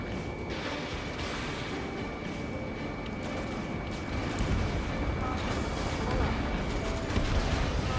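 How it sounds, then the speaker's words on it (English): Constant gunfire and artillery from the air combat video game Ace Combat 7, a dense rumbling barrage throughout that grows heavier in the second half, with radio voices under the din. "We're taking fire! Take care of them!"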